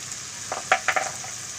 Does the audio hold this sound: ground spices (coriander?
yes